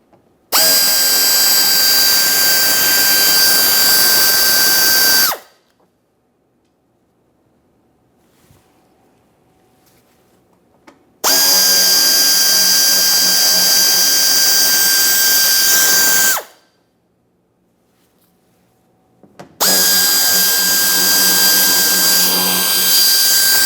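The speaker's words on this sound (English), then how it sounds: "using a T15 to remove all 3 of these mounting bolt" A cordless power driver fitted with a T15 bit whirs in three loud, close bursts of about five seconds each, separated by quiet pauses, backing out bumper cover mounting screws on a 2017-2024 GMC Acadia.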